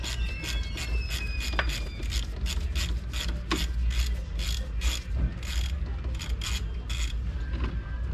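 Ratchet clicks quickly in rapid bursts while backing out a 10 mm bolt on a Nissan Versa radiator fan, close and fairly loud over a steady low background hum, with no talking.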